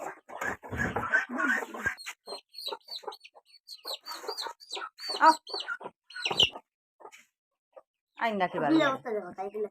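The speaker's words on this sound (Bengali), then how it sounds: "এখন আমার হাঁস খাইয়ে দিয়ে দিই" Village ducks in Assam quack and cluck around feeding time, with calls scattered among a person's talk. A louder burst of calls comes near the end.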